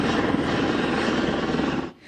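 A rescue helicopter in Switzerland's Valais canton roars steadily overhead while lifting an injured cow by sling, a loud broad engine-and-rotor wash that cuts off abruptly near the end.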